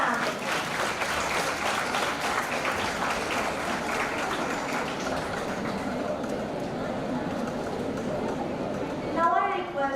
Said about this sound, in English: Give a big round of applause for our Anita ma'am.